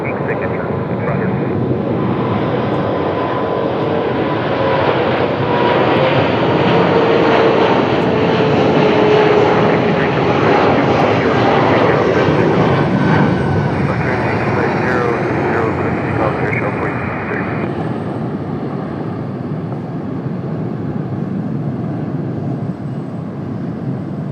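An aircraft lands at Dallas airport, its engines a loud, sustained roar that swells in the middle and eases toward the end, with radio chatter and voices over the top.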